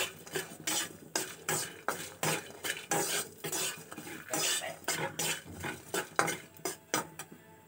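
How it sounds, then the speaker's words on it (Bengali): Lentil dumplings frying in a wok, heard mostly as repeated close scraping and stirring of a utensil against the pan in an even rhythm, with a faint sizzle underneath. "কড়াতে দিয়ে দেবো এখন বড়িগুলো ভেজে নেব।"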